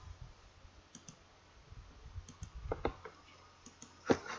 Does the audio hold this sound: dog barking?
no